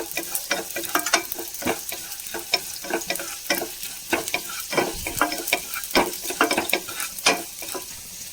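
Vermicelli (semiya) frying and being stirred in a pan, with a steady sizzle broken by frequent clicks and scrapes from the stirring, close and fairly loud.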